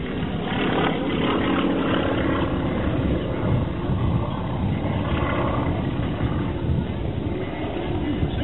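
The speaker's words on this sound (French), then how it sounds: "c'est du moteur ancien, c'est des moteurs des années 30, hein, mais c'est des moteurs assez fiables" A vintage 1930s propeller aircraft engine runs at an air show marking 80 years of the Étampes aerobatic patrol: a loud, continuous droning roar with rough, throbbing texture, holding steady and near for the whole stretch.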